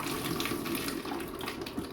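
Water gushing out after a valve is lifted, a steady, fairly loud rush of flowing water that stays constant throughout, with no voices.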